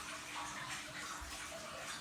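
Water running through a hose during a goldfish tank water change, a soft steady gushing and trickling stream that continues without break, fairly quiet and close.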